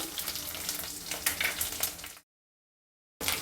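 Mustard seeds, green chilli, ginger and curry leaves frying in hot oil for a tempering, a loud dense sizzle and crackle that cuts off into silence, then resumes briefly.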